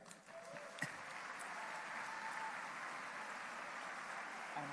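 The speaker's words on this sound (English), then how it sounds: "Now you can cheer." An audience at an international commercial arbitration moot final round claps and cheers in a continuous, fairly faint wash of applause lasting a few seconds.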